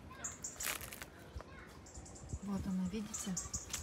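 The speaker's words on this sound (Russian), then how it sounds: "Вы слышите, птицы поют?" Faint, scattered bird chirps sound from a distance amid outdoor background noise in Batumi, with a voice murmuring briefly nearby.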